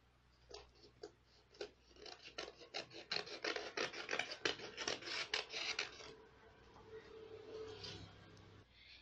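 Scissors snip repeatedly through excess white chart paper, a quick run of close, crisp cuts and rustling paper, with no talking.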